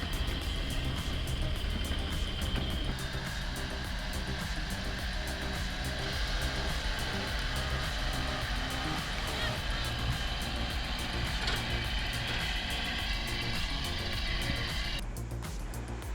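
The diesel engine of an LKT-81 Turbo logging skidder drones steadily and loudly at a constant pitch, working in New Zealand radiata pine forestry.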